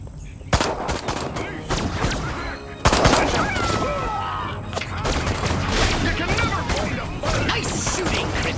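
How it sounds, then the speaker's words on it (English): Disintegrator ray firing in Destroy All Humans, a loud, sustained crackling barrage of rapid bursts against the police, with dense game effects and voices underneath. "So I'm unlocking your disintegrator ray. Try it out on the fuzz."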